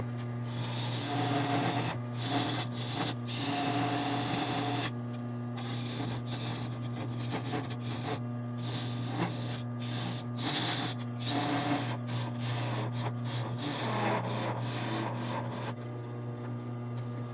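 A wooden toy top being shaped on a lathe, with a constant motor hum under repeated rasping, scraping bursts as the tool cuts the spinning wood.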